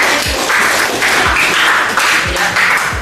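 A classroom group claps for several seconds in a steady, dense burst of applause, close and loud with soft thumps mixed in.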